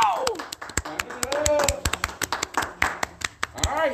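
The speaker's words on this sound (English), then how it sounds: "Clap it up" Students clapping hands in rhythm during a music class, a string of sharp claps following a beat with voices chanting and talking over them.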